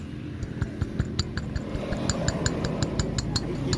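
A worn piston is tapped inside the cylinder of a Honda Supra X125 FI, giving a steady series of sharp metallic knocks at a quick, even pace over a low background rumble.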